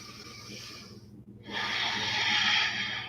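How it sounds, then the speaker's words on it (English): Slow ujjayi breathing during a hatha yoga session: a long, soft hissing exhale, a brief pause, then a stronger sustained breath, close and alone with no talking. "Find that ujjayi breath to get you through."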